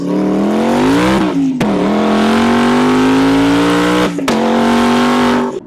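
A 1000HP twin-turbo Ford Mustang with badly worn piston rings accelerates hard, its loud engine note climbing through the gears with two brief breaks at the shifts, close by and with no talking.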